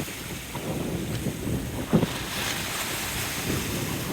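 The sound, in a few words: ocean waves crashing on rocks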